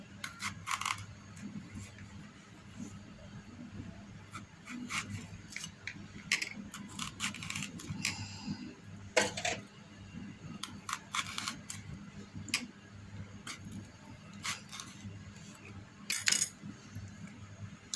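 A knife scores and slices washed bananas' peels in a series of quiet, crisp clicks and snips, spaced irregularly over a faint room hush.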